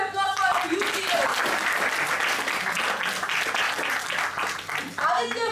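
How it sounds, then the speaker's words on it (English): A round of applause for youth leaders at a word-of-the-day meeting, with continuous dense clapping from a group that swells and then fades, and voices at the edges. "So please give a thunderous round of applause for our youth leaders."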